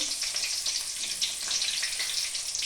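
Onions frying in hot oil for karam borugulu, a steady bright sizzle with crackling pops, close and continuous without any talk.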